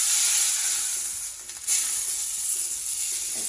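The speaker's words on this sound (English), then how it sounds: "after you sear both sides, you just want to keep on flipping it as often as possible to not overcook one side" A steak sears in a hot pan with a steady, bright sizzle and crackle. A short dip in the middle ends in a sharp burst of sizzling as the meat is flipped, with no voices.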